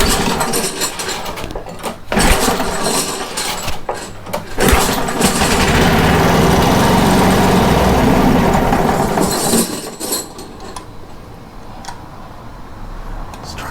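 A Briggs and Stratton engine on a lawn dethatcher is started at full throttle with choke. It sputters and catches, then roars loudly and steadily close by for several seconds before dropping away.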